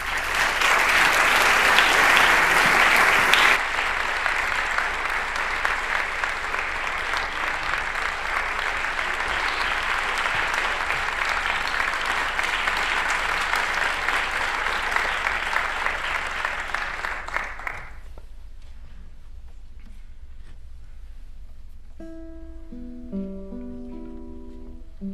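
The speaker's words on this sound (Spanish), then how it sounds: "Un aplauso para él." Concert audience applauds classical guitarist Rovshan Mamedkuliev at an international guitar competition, sustained dense clapping that starts loud, holds steady for many seconds, then stops abruptly, leaving near silence with a few plucked guitar notes.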